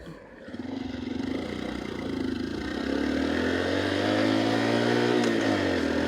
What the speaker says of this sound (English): This bike that I'm riding here is mostly stock, and it's pretty quiet